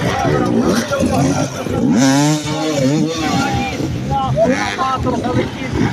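Hard enduro motorcycle engine revving at a Ukrainian championship race, rising and falling in pitch in bursts, mostly under loud continuous commentary.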